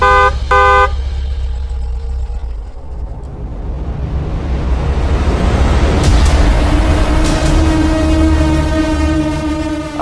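A car drives along with its engine rumbling while the horn sounds in short blasts at the start and again in longer sustained tones near the end, loud and close, with no talking.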